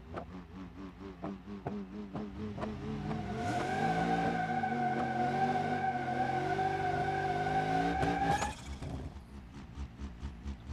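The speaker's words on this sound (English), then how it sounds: "That's good burnouts now." Car doing burnouts in the BeamNG.drive video game: engine revs climb into a sustained, loud tire squeal lasting several seconds, then cut off abruptly, with rapid revving pulses before and after.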